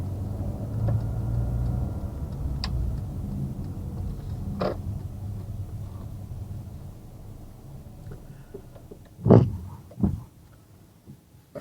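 A car slowing and pulling up on the left side of a road, a low engine and tyre rumble easing down, followed by a couple of short louder knocks near the end.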